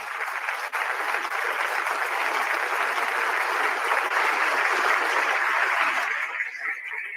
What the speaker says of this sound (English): 박수를 부탁드리겠습니다